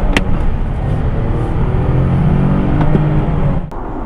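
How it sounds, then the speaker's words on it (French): A 2018 Nissan 370Z convertible drives along with a steady engine and road rumble, a continuous close drone that eases slightly near the end. "aujourd'hui dans la Nissan 370Z décapotable 2018 en primeur, Ross nous amène ça."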